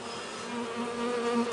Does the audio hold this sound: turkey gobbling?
no